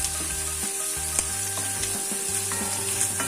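Meat seasoned with salt and black pepper frying in a pan, a continuous close sizzle broken by several clicking, scraping stirs at an uneven rhythm.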